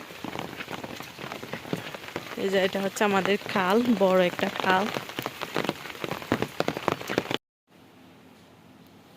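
Heavy rain pours steadily onto a flooded village courtyard and nearby canal, a dense close hiss throughout while someone talks over it, cutting to a quieter patch at the end.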